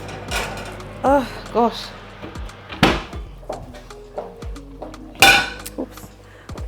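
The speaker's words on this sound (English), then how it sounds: "now I'm sure the pan is hot enough. I'm going to bring it out." A hot pan pulled out in a home kitchen, with sharp metallic clanks and clattering knocks scattered irregularly throughout, close and fairly loud, while a person talks briefly between the bangs.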